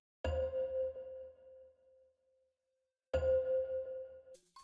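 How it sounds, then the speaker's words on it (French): Two bright, bell-like celesta notes, each struck cleanly and ringing out with a slow fade, the second following after a pause; close and clear. "Un Celesta, c'est une sorte de petit piano, un piano normal, qui a un son percussif"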